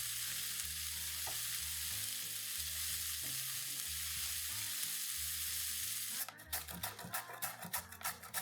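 Onions frying in a pan, with a steady soft sizzle beneath a low droning hum, followed by a burst of rapid crackling and spoon scrapes as they are stirred near the end, close and without speech.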